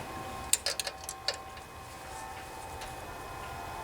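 A wrench tightens a nut on a valve stud of a single-cylinder Briggs and Stratton OHV engine with an aluminum head, giving a few close metallic ticks and clicks in quick succession, then a quiet background.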